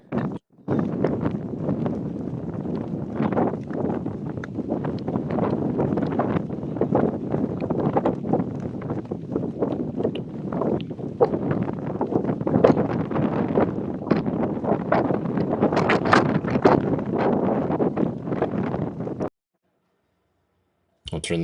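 Strong, gusty desert wind buffets the microphone at a rally bike stage start, loud irregular blasts and rustling that surge and fade, then briefly drop out near the end.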